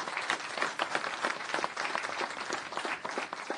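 Audience applause for a conference panel on improving mother and child health outcomes, steady dense clapping from a full room that carries on throughout without pause.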